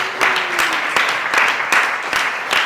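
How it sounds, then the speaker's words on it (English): Wedding guests applauding during a reception speech, a burst of dense, steady clapping from a crowd in a room, close and lively, with faint voices underneath. "So a round of applause."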